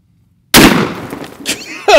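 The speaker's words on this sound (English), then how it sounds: "see how much we penetrate after we blow the water jug up" A single loud close shotgun blast as a wax slug bursts a water jug, followed by splashing and spatter, then a startled voice shouting.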